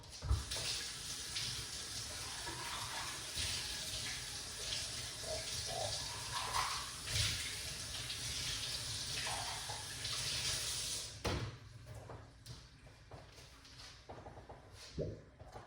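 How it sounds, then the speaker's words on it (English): A cup rinsed under a running kitchen tap, with a steady close rush of water that stops near the end, followed by a few faint clinks and handling sounds. "Let's rinse up my cup."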